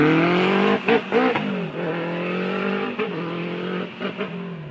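A Kawasaki Z800 Turbo motorcycle on a test ride accelerates hard, its engine note climbing steadily and dipping briefly at several gear changes, loud and close with no talk.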